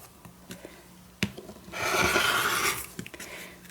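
A rotary cutter trims a small paper notebook on a cutting mat, giving one rough rasping slice of about a second, framed by quiet handling taps and small clicks. The sound is close and fairly faint, with no talking.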